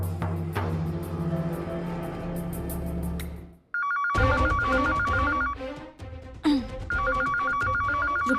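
A telephone rings loudly with repeated electronic trills in bursts, following a stretch of other busy household sound, all close and prominent.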